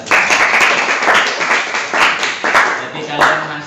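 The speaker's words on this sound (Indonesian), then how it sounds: "terima kasih tepuk tangan untuk kita semua" Classroom applause from a group of students at a school session, steady clapping bursts throughout, loud and close, with some voices mixed in.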